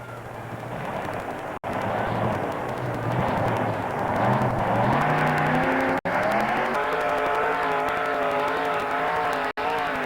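A pulling truck at a 1985 Teays Valley truck pull, its engine roaring loud and continuous under heavy strain, pitch climbing and wavering as it fights the sled, with a few abrupt cutouts.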